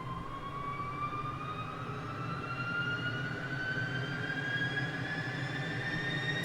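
Small twin jet engine of a Cessna T-37B Tweet spooling up during ignition in Microsoft Flight Simulator, a steady whining turbine tone rising slowly in pitch over a constant broadband roar, continuous and alone.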